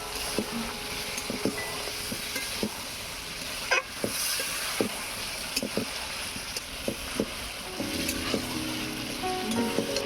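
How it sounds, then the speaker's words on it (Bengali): Chicken being kosha-fried in a pan after a little water is added, a constant hissing sizzle with regular sharp spatula taps and scrapes against the pan, close and alone. "এবার চিকেনটাকে ভালো করে কষিয়ে নেব"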